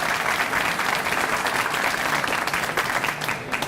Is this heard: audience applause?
yes